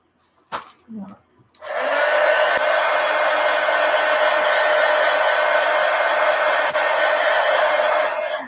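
A hair dryer blows steadily on a freshly painted adult coloring book page, a loud, continuous whooshing drone that starts after a second or two of quiet handling noises and runs unbroken to the end.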